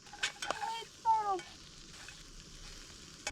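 Chocolate pancake batter cooking in a pan outdoors beside a creek, with a soft background sizzle under a few squeaky, scraping utensil sounds near the pan.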